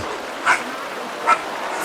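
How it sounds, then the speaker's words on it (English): A dog barks twice indoors, two short sharp yaps about a second apart, moderately loud against a quiet room hiss with no talk. "Sorry, that was my dog."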